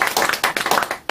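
An audience claps in thanks for a lecturer after a talk on Korean history at a church gathering; a steady, dense round of applause fills the room before tapering off and stopping.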